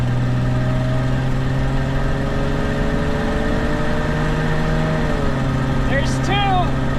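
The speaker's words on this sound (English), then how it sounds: "We're in third gear. Oh, that's amazing. Automatic gear shiftage." Ford Bronco II with an automatic transmission pulling away from a stop, engine drone rising in pitch then dropping as it shifts gears, steady and close, with a brief voice near the end.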